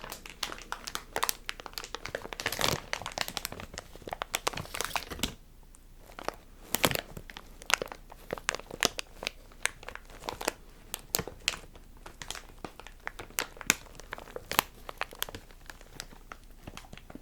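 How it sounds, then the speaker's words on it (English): ASMR crinkling, close and crisp, with irregular bursts of crackling material crumpled repeatedly for over fifteen seconds, broken by brief quieter pauses, and no talking. "These crinkles are so good."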